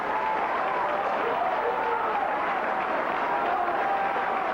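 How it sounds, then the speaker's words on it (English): Rugby league spectators at an Oldham versus St Helens match applaud after a try: a broad, even wash of distant crowd clapping and murmur, steady throughout with no standout voices. "Applause there from the Oldham spectators, and no doubt some of the Saints spectators."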